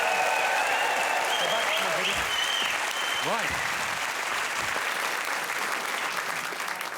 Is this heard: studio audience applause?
yes